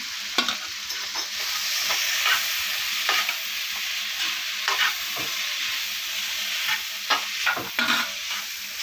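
Egg being stir-fried with softened ingredients in a pan for egg noodles, a steady close sizzle broken by repeated scraping stirs throughout, no voices.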